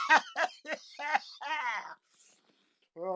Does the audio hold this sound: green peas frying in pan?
no